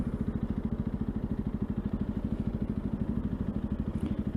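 A Honda CRF300 Rally motorcycle engine idles in neutral, a close, steady single-cylinder thump with an even, rapid pulse throughout.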